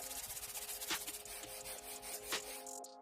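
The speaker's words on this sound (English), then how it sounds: "prepare the surface for the next glue up by sanding down to get a nice flat surface." Quiet, rhythmic rubbing strokes of sandpaper on wood, soft scratchy passes repeating at a steady pace.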